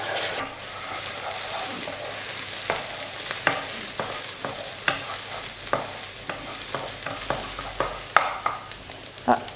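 Crepe filling with tomato sauce sizzles in a pan while a utensil stirs it, giving a steady hiss broken by repeated sharp scraping taps, close up and without speech.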